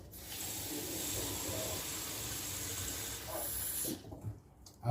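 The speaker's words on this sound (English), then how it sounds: "I take the water and I pour it on the corner." Warm water pours steadily into the corner of a baking pan with an oven open nearby, a close hissing stream that cuts off near the end with a few small clinks.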